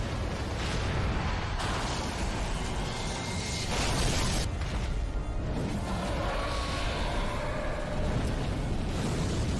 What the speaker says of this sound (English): Oh, there was a fire.